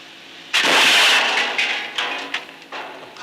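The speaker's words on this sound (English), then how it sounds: "They're going to fire the gun again, using a dozen ordinary builder's bricks as the target." An experimental rock-breaking gun fires at a target of a dozen ordinary builder's bricks, one loud sharp blast with a rushing, crumbling tail and scattered debris impacts fading over a few seconds.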